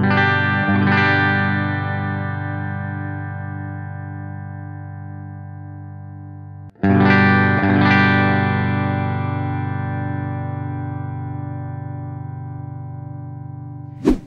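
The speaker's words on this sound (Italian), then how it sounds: "Secondo me è sulle distorsioni che la Custom e la Standard 24 fanno davvero bene." A PRS SE Custom or Standard 24 electric guitar with heavy distortion strikes two sustained chords that ring out and slowly decay, with a short sharp accent at the very end and no voices.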